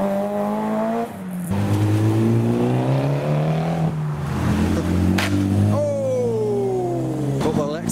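A Mitsubishi Evo revs hard as it pulls away from a JDM car show, its engine note climbing and dropping through several loud, close throttle blips while other cars idle nearby and people talk in the background.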